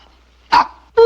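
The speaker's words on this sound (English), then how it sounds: "Stop barking at Mama." A small dog gives two sharp, close barks about half a second apart, loud against an otherwise quiet indoor room.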